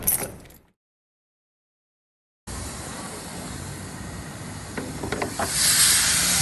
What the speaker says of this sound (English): I think some WD-40 will fix that.